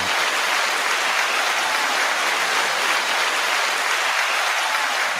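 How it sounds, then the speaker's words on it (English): Applause sound effect triggered from a button plays loud and steady, a dense wash of clapping that sounds almost like heavy rain, continuous for about five seconds with no talk. "I should have an applause button here somewhere."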